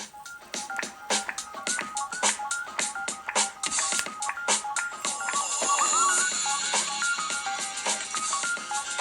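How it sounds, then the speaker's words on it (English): Soft startup music from a 2004 12-inch Apple PowerBook G4 laptop, a light electronic tune of quick beeping tones and chimes, playing faintly in the background. "I don't know if you can hear that, but we've got a little music playing."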